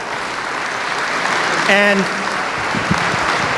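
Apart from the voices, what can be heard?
round of applause for Sam and Alice Viola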